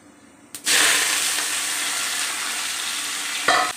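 Chopped eggplant tipped into a hot pan with vegetables bursts into a loud, steady sizzle that keeps going for about three seconds, close by, ending with a short clatter as it is stirred.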